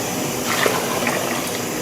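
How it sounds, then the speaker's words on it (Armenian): Hot water pours steadily onto food in a home kitchen, a continuous close splashing stream with no talk over it. "տաք ջուր եմ ավելացնում վրան"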